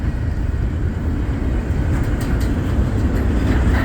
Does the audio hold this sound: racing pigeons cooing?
no